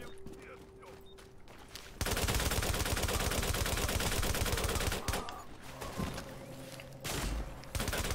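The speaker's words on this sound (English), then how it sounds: "Oh, shotgun, that's dangerous." Shotgun fire in the shooter The Division comes as dense, loud bursts of repeated blasts for several seconds, then drops away and returns in a shorter volley near the end.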